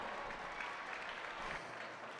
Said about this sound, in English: Let's give these young folks for a round of applause for getting them to this point